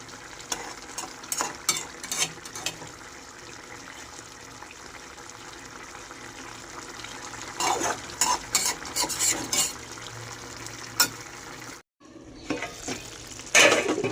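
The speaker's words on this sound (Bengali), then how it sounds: "দেখুন ঝোল ফুটতে শুরু করে দিয়েছে অলরেডি।" Boal fish curry with potatoes simmering in a pan, stirred with a utensil that scrapes and knocks against the metal over a steady bubbling hiss. The stirring comes in bursts and stops briefly near the end.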